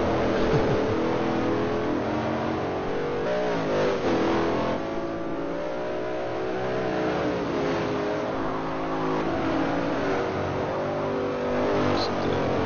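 A Ford Fairlane race car engine runs on track at a historic Trans Am race at Sears Point, giving a loud, continuous roar with shifting revs throughout.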